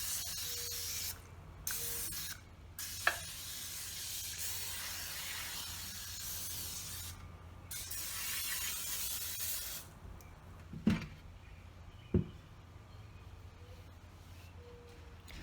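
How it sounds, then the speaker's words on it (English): Cooking oil is sprayed into a baking pan in several bursts of hissing spray, quiet and close, separated by pauses with a few light clicks and taps. "spray the pan with cooking oil"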